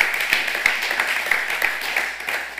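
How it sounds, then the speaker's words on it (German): Steady audience applause at a talk on recycling in the building sector, dense overlapping hand claps filling the room at moderate distance, with faint speech underneath. "Ihr bekommt mal ganz einen Haufen Applaus."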